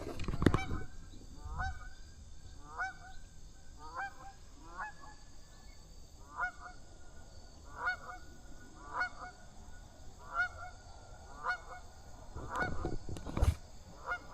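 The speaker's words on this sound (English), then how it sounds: "Here comes some geese." Geese honk as they fly in and land on water, a steady series of faint-to-moderate calls repeating every second or so from some distance, with a few louder thumps near the start and end.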